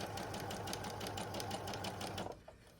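A sewing machine stitching Levi denim and cotton fabric into a child's backpack, running in a fast steady chatter for over two seconds before stopping, close and with no talk over it.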